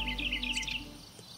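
Outdoors beside a sustainable home set in nature, a bird gives a quick series of bright chirps near the start, while a faint, steady high background hum that could be crickets runs throughout.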